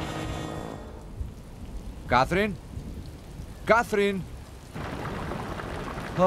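Steady heavy rain with rumbling thunder fills the scene in a Greek-dubbed drama episode, a continuous loud wash under two short spoken calls.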